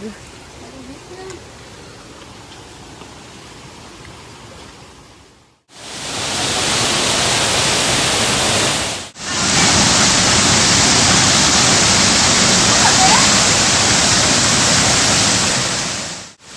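Water of Tai Shing Stream rushes loudly and steadily, close by, after a quieter opening with faint voices, with abrupt cuts between stretches of the rushing flow.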